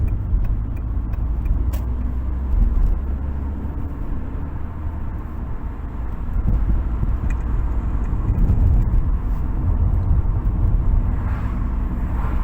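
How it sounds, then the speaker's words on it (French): A car rolls steadily through an intersection with a constant low engine and road rumble from inside the cabin, a few faint clicks on top and no talking. "tu vois Fernand, regarde, j'arrive à un carrefour, hop"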